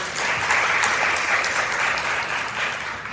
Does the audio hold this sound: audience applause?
yes